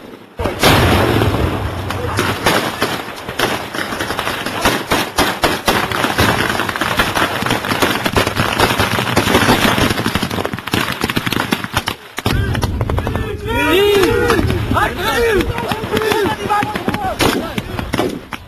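Loud, continuous military battle noise at the Kavkasioni-2006 training exercise on Orpolo range, Georgia, with repeated blasts and gunfire-like bursts throughout, a brief drop near the middle, then more explosions mixed with shouting or vocal sounds.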